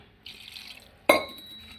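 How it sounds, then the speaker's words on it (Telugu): A short splash and a trickle come first, then a sudden louder gush of water poured over bitter gourds in a metal pot that rings briefly afterward. "కాకరకాయలు మునిగేటట్టు పోసుకోవాలి నీళ్ళు"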